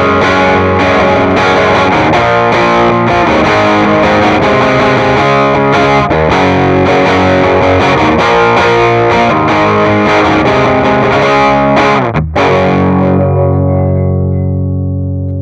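Electric guitar played through a Sonicake Sonic IR pedal set to a Fender-style 2x12 deluxe reverb cabinet, a distorted, sustained riff of chords and notes with no talking, ending in a ringing chord that fades out.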